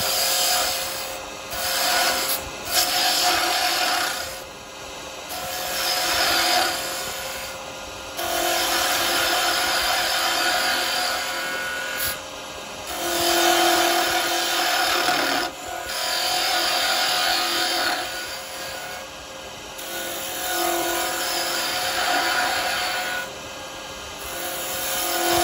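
Woodturning chisel held rolled over, cutting wood on a lathe while shaping a small Christmas tree, giving a steady rasping, scraping rush in repeated passes with brief pauses, no talk.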